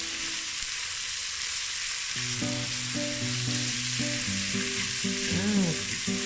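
Egg fried rice with corn being mixed together in a pot, a steady sizzling hiss running throughout while a melodic tone pattern plays over the second half, no voice present.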